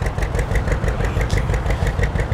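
A hay cuber powered by a Detroit diesel engine runs steadily at an outdoor steam and farm machinery show, giving a continuous low, throbbing rumble with a regular pulsing beat and no voices over it.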